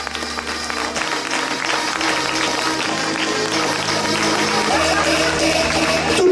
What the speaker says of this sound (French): applaudissements pour nos mannequins en herbe